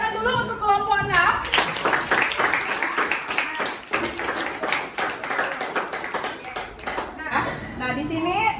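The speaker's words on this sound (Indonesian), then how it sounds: "tepuk tangan dulu untuk kelompok 6" Classroom applause for a student group presenting on food additives, clapping from students running under the teacher's talk and children's voices.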